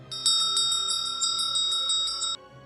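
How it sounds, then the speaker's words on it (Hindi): Temple bells ring loudly and continuously, a bright metallic clanging of repeated strikes that rings on for about two seconds and then stops abruptly, with no voices. "तभी अचानक से मंदिर की घंटियां जोर जोर से बजने लगी"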